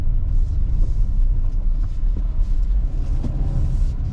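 A 2023 Jeep Compass Trailhawk 4x4 rolls over gravel, giving a steady low rumble of tires and engine with faint crunching, close and continuous for a few seconds.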